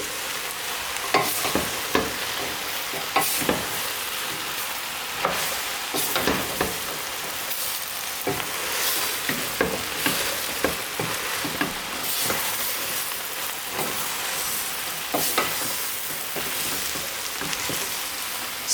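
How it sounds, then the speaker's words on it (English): Summer squash is stirred into biryani in a pan, with repeated scraping and clattering strokes over a steady sizzle, close and moderately loud throughout. "And this we're going to stir in all of it."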